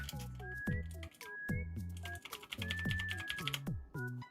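A mechanical keyboard with blue switches clicks in quick, irregular bursts of sharp, crisp keystrokes, close up, with brief tonal artifacts between the presses.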